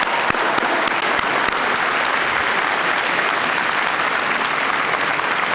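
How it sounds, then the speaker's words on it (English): Steady, dense applause from a large audience at a school district convocation, honoring foundation members; loud and continuous throughout with no talking over it. "let's give our foundation an incredible round of applause"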